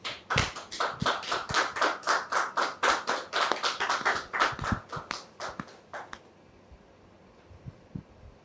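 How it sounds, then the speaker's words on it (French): Studio audience welcoming a guest onto a French talk show set, a small group clapping in a fairly steady rhythm for about six seconds before it stops, leaving faint room noise. "M. Guy Ndjakan, que nous allons recevoir sous vos applaudissements"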